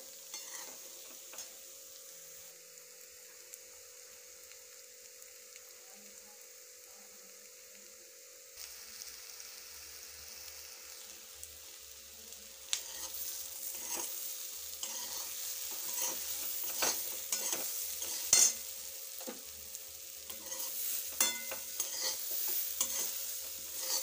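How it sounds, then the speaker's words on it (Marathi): Taro leaf rolls (aluwadi) fry and sizzle softly in a pan, then a spoon stirs and scrapes them in irregular clinks that grow louder and busier toward the end, with a faint steady hum beneath. "यावर थोडीशी कोथिंबीर घालून वड्या पुन्हा एकदा हलवून व्यवस्थित परतून घेऊया."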